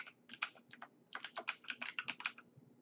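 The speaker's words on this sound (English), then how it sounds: "I'm going to add contact and I'm going to write here, Marco." Quick bursts of typing on a computer keyboard while a new email contact is entered in Outlook, close and clear with no talking, in two runs of keystrokes separated by a short pause.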